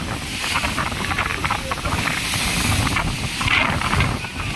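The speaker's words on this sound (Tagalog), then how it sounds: "Ang lakas grabe ng ng alon tsaka ng hangin" Strong sea waves and gusting wind at sea with large ships nearby, a continuous loud rush of surf and wind buffeting the microphone for the whole stretch.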